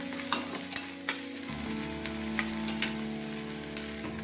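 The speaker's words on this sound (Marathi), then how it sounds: "त्यामध्ये आपण जो 1 चिरलेला कांदा आहे आणि हा थोडासा लालसर होऊ द्यायचा" A chopped onion fries with browned garlic as a constant crackling sizzle, with stirring clicks spaced through it and a faint steady hum underneath.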